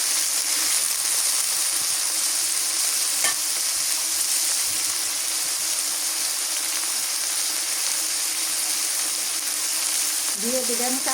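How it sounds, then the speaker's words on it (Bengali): Shrimp frying in hot oil for a bhuna curry with taro stolons gives a loud, dense and unbroken sizzle that holds steady throughout. A brief voice-like sound rises near the end. "চিংড়ি মাছটা তেলের মধ্যে ভাজে নেই ভালো"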